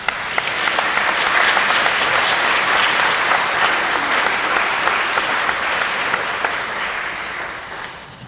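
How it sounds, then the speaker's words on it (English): A big round of applause for musicians at a celebration-of-life memorial: dense, sustained clapping from a sizable audience that swells early, holds strong, then tapers off toward the end. "I think we all need to give these musicians a big round of applause."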